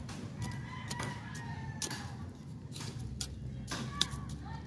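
Backyard chickens cluck and call outdoors, with a rooster's crow and scattered bird sounds over a steady low background hum, moderately faint and without speech.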